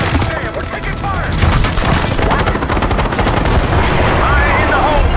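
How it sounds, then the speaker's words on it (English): Heavy sustained gunfire in a Call of Duty: Black Ops 6 cutscene, loud rattling bursts and booms overlapping continuously, with shouting voices mixed in. "Damn, we're taking fire!"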